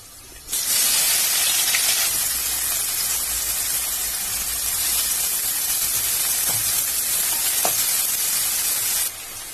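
Cinnamon, cardamom, cloves and small shallots hit hot oil for a Tamil quail gravy. A loud, steady sizzle starts abruptly and holds for about nine seconds before cutting off, with no voices.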